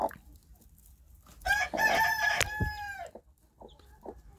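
A brooding hen sitting on hatching eggs clucks and squawks in a short, loud burst of agitated calls up close, followed by quieter scattered clucks.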